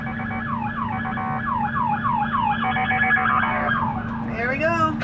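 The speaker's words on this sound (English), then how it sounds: "here we have something else, a police car coming" A police car siren wails in repeated rising and falling sweeps close by, over steady road and engine noise, with a brief different siren tone at the end.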